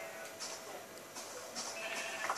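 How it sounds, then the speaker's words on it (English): Sheep bleats in a blocky survival video game, several short, faint, nasal calls repeating over a steady background hum, with no talk over them. "Ooh, a sheep."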